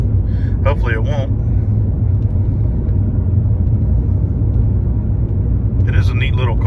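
A Mini Cooper with newly replaced coils rolls over a bumpy road, a loud, continuous low rumble and road roar throughout, with brief voices near the start and end.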